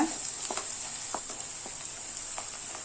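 Sliced onion and green chillies sautéing in a pan for egg fried rice, a soft steady sizzle with a few faint stirring scrapes, close and fairly quiet.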